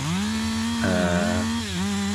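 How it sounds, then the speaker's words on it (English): A smaller 560 chainsaw fitted with a narrow 0.325-inch profiled chain cutting into a tree, its loud steady engine whine dipping as it bites into the wood, then rising again. "I went to a smaller chainsaw here, a 560"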